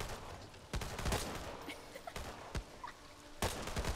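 Gunfire in the video game Back 4 Blood: sharp, close shots in irregular bursts amid a busy game soundscape, with occasional creature-like calls in the background.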